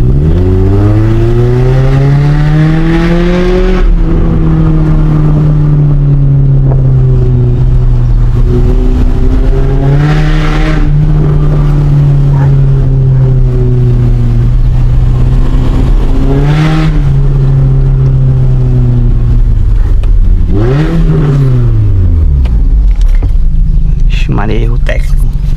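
Toyota Corolla with a straight-pipe exhaust, no muffler, driving and downshifting: a loud, continuous engine drone whose pitch holds steady, drops, then climbs and falls again through gear changes, with talk over it.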